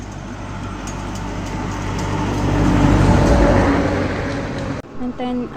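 Steady traffic noise rushes past close by, swelling as a vehicle passes, then a brief cut to quieter sounds at the end.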